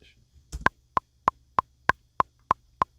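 Fast metronome clicking at about 180 beats per minute, eight sharp evenly spaced ticks, close and clear with near silence between them.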